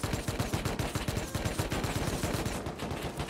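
Rapid automatic gunfire in the survival game Rust, a steady stream of close, loud shots in quick succession with no talking over it.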